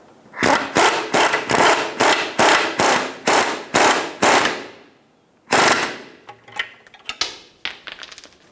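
A ratchet with an 18mm socket tightening a front sway bar link nut on a 2010-2014 Subaru Outback. Nine evenly spaced, loud, close rasping strokes are followed by a pause, then a shorter, uneven run of fainter clicks.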